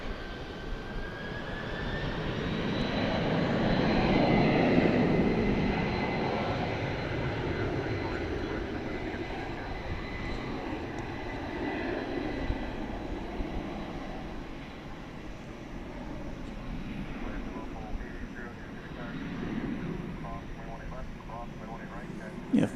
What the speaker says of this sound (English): If memory serves, this plane is headed to Louisville.